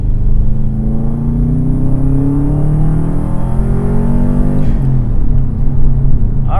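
A 2004 Subaru WRX with a stock turbo pulls hard in second gear, its loud engine drone climbing steadily in pitch before a sudden break near the end, close inside the cabin with no talk.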